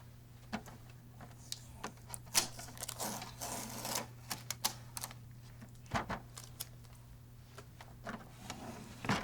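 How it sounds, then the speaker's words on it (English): Packing tape being peeled and pulled from the input tray of an HP DeskJet GT 5820 inkjet printer, giving irregular sharp crackles and clicks, some bursts of tearing, close-up over a faint steady hum. "Remove the tape holding the input tray in place."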